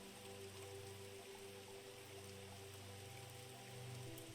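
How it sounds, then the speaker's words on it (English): Rain falls steadily on a makeshift tent, a soft, even hiss with light drumming on the fabric, faint and continuous alongside a low constant hum, with no voice over it. "You hear the sound of the rain on your makeshift tent."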